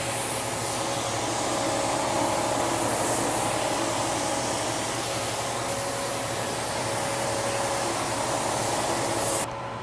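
A spray gun lays base coat paint inside an inflatable paint booth, giving a steady, loud, continuous hiss close by for almost ten seconds before cutting off abruptly at the end.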